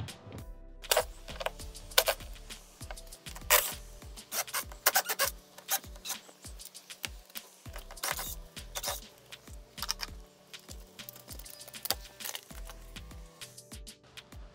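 Screws being removed from the perimeter of an air handler panel, a dense stream of close, scraping, rasping clicks and short metallic turns spread irregularly over the whole stretch with no speech.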